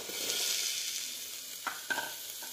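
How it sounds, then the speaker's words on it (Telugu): Ginger garlic paste fries in a pan, a close, continuous hiss of sizzling with a few short stirring scrapes near the end and no talking. "అల్లం వెల్లుల్లి పేస్ట్ వేసి మిక్స్ చేసుకోవాలి. ఇది కొంచెం పచ్చివాసన పోయే వరకు ఫ్రై చేసుకోవాలి."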